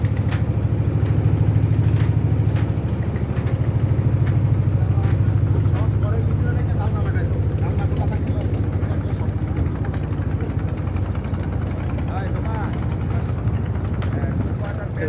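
A boat engine runs steadily on Tanguar Haor, a loud continuous low drone and chug that holds level throughout, with people talking over it.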